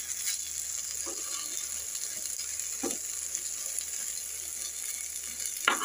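Eggplant slices frying in oil in a pan, a steady, even sizzle that continues throughout, broken by a few brief sharp clinks and scrapes from turning the pieces.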